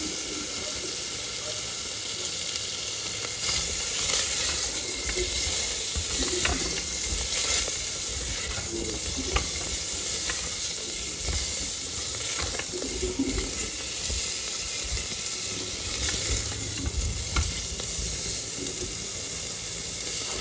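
Bacon sizzles and crackles in a pan over low heat while being stirred, a steady, close frying hiss that holds throughout with faint clinks from the utensil.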